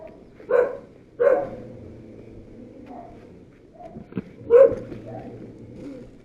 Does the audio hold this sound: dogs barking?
yes